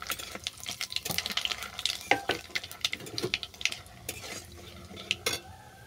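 Nigella seeds, dried red chillies and a bay leaf sizzle in hot oil, with crackling spatter and a few scrapes of a spoon stirring the pan, close and fairly loud with no talk.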